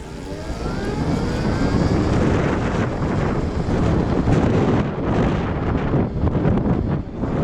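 An Ezi/Vga Hyperide S moped in 30 km/h sport mode accelerates with a rising motor whine, nearly buried under loud, constant wind rush.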